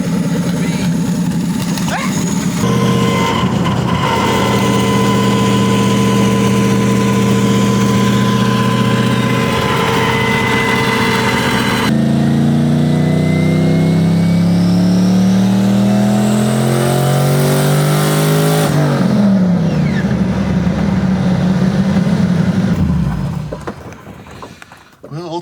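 A supercharged Crown Victoria engine, with all 16 plugs firing, idles loudly and then revs up in rising and falling sweeps before settling, and a voice talks briefly over it.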